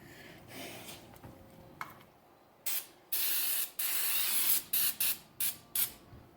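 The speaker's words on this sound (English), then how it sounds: "There is a brake cleaner." Several short bursts of brake cleaner sprayed from an aerosol can onto front brake parts of a 2012-2015 Audi A6 3.0T (C7), first a long hiss and then quick separate squirts, close and fairly loud, with no talking.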